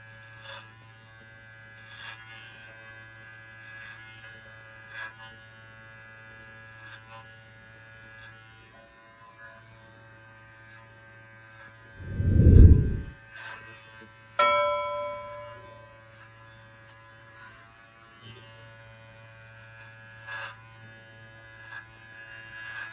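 An electric beard trimmer buzzes quietly and steadily while trimming a beard, with a brief louder burst partway through.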